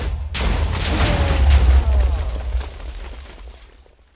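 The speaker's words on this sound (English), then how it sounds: "it's time to blow up the targets with their new TNT cannon." A TNT cannon blast in Minecraft erupts suddenly, a loud booming explosion whose deep rumble swells and then slowly fades over several seconds.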